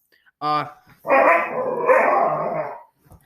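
Dogs barking at home, a short sharp bark followed by a longer run of loud barking and growling, close to the listener, with no talk over it.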